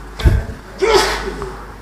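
Someone sneezes once sharply, with a short intake of breath and then the burst, heard close and alone during a religious lecture.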